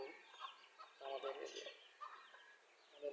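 Chickens and a rooster of a Bangladeshi backyard deshi flock cluck repeatedly in short, overlapping calls at moderate distance, with no talking.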